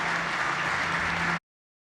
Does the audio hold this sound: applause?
yes